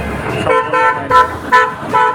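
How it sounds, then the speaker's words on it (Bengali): Road traffic passes near a railway station and CNG auto-rickshaw stand where road work is still underway, with a steady vehicle rumble and several loud, tonal horn toots repeating every half second or so. "ট্রেন যাচ্ছে আরও অনেক গাড়ি যাচ্ছে"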